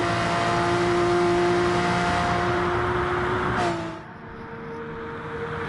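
Porsche Carrera Cup race car engine at Bathurst holding a steady high-pitched roar that suddenly drops off and fades, then begins to rise again, loud and close.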